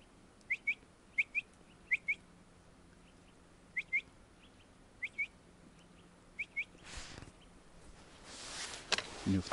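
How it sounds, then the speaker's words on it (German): A wild bird sings outdoors at night among rocks on a solo bushcraft overnight camp: paired, clear chirping whistles repeat at fairly even intervals, moderately near, before rustling noise swells near the end. "Merlin, was ist jetzt das für ein Vogel?"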